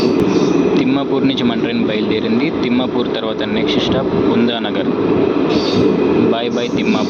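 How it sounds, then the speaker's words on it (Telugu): Mahabubnagar–Kacheguda DEMU train leaving Timmapur, its loud steady rumble heard from on board while someone talks over it throughout. "తిమ్మాపూర్ నుంచి మన ట్రైన్ బయలుదేరింది."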